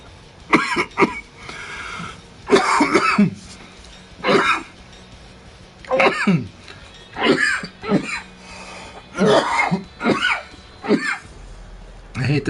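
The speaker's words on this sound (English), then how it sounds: "I hate this lingering cough I've had since Christmas." A person with a lingering cough coughs repeatedly in short bursts, several harsh throat-clearing hacks spaced across the stretch, close and fairly loud with brief quiet gaps between.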